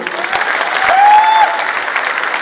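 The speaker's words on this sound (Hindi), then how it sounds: "जोरदार तालियां होनी चाहिए इनके लिए" A crowd at a talk bursts into loud, sustained applause, dense clapping rising slightly in the middle before holding steady.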